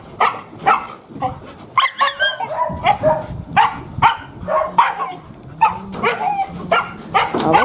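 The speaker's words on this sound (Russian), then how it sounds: "И лает, и прыгает." Outdoors in a thawed garden with no snow, a dog barks repeatedly in short close bursts while jumping about, with yips and whimpers mixed between the barks.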